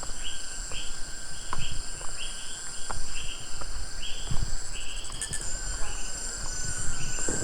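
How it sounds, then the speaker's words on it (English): Insects buzz and chirp steadily with repeated bird calls in a forest near twin lakes in the Philippines, a dense continuous chorus with a faint rustle of trees underneath. "All the birds and the insects and the rustling of the trees"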